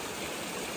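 Storm runoff water rushes through a pipe at a creek crossing after a heavy storm, a loud, steady, close roar of flowing water with no other sounds.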